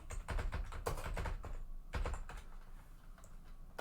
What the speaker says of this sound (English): I'm actually going to type this in the chat.